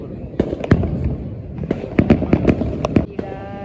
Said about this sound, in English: all the fireworks coming